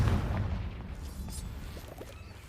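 A blasting-spell explosion in a first-person video game, a deep booming burst at the start that rumbles and fades into a low tail, with a few faint crackles and debris taps afterward.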